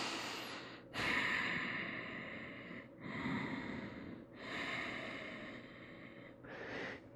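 Slow, audible breaths come close up during a yoga lizard pose, with four long inhale and exhale cycles, each a soft airy rush separated by brief pauses, and no talk.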